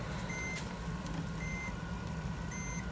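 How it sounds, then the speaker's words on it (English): A Dell Inspiron desktop's dusty-bearing cooling fan roars close up as a loud, steady rushing whir, while a high electronic beep repeats every second or so. "If you put the camera up to the fan, you'll hear it."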